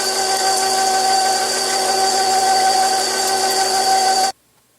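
A KitchenAid meat grinder attachment grinds meat with a steady, even motor whine that stops abruptly just before the end, leaving silence.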